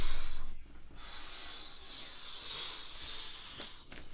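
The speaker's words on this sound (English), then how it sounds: "Go ahead, breathe out, breathe out." A deep breath pushed out through the nose and mouth during a guided breathing exercise, a soft breathy rush that fades after a fraction of a second, followed by quieter airy hiss and a brief snort-like puff near the end.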